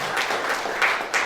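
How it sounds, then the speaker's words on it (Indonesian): A church congregation at a Sunday service claps together, a soft, steady patter of many hands heard at a distance, with a few louder swells near the end. "Tepuk tangan bagi Allah kita."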